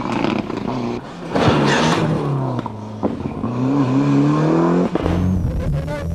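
A rally car engine revs hard and accelerates close by on a 2001 rally stage, pitch climbing through gear changes, with brief drops between pulls and gravel noise underneath.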